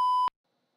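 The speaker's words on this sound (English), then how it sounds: "Leave a message after the beep." A single clean electronic answering-machine beep, steady and moderately loud for about a quarter second, then cut off into silence.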